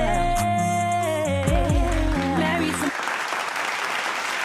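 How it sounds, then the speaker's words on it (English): Applause at a music podcast opening, rising into a dense wash of clapping after a stretch of music, continuing steadily to the end. "Please stop the applause"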